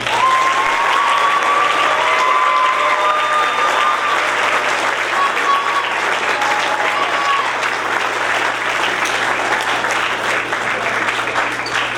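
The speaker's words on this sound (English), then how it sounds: "let's give the seniors a round of applause" A crowd at a high school JROTC change of command ceremony gives the seniors a long, loud round of applause, a thick steady wash of clapping with a few cheers and faint voices mixed in.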